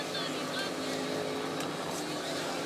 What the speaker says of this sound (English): You really can hear it on the beach how loud these engines are as they roar by.